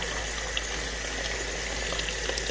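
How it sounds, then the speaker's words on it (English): Water pouring into a pot of dried chilies, a steady broad rushing gush that stays even and close for the whole stretch with no talking. "add enough water to cover the chilies"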